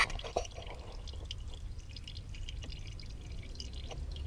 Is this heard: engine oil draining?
yes